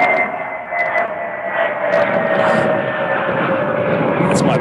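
A steady airplane drone hums overhead, loud and continuous, with a faint tonal whine and some background noise.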